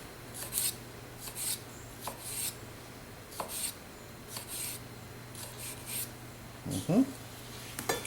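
A knife cuts tomato concassé into small dice on a board, making a series of short scraping, rasping cuts in irregular bursts, close and fairly quiet.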